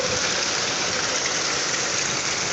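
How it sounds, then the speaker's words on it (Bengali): A heavy hailstorm in Gazipur roars as a dense, constant wash of pounding and hissing noise, loud and unbroken throughout with no pauses. "প্রচুর শিলাবৃষ্টি হইতেছে রুমের মধ্যে থাকাই যাচ্ছে না"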